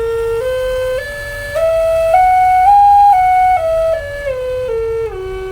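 A breathy Native American flute in G plays a stepwise run of sustained notes, climbing to a high peak and then descending again, clear and close with no talking.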